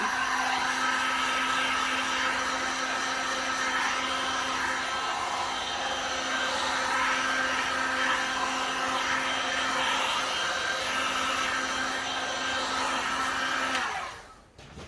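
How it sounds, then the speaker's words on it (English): Heat gun blowing steadily over a resin flower coaster, a loud continuous close whooshing whine lasting the whole time before it cuts off abruptly at the end. "Might just give it a tiny little zap with the heat gun."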